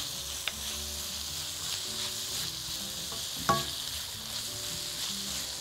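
Green bell pepper frying with onion and garlic in hot oil, a steady close sizzle with a couple of sharper pops and clinks, no one speaking.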